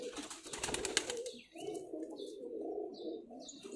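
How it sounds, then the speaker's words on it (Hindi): Breeder pigeons coo softly at close range in repeated low throaty phrases, with a brief flutter and rustle of wings near the start and no one talking. "ये दो कबूतर आपको दिखा रहे हैं"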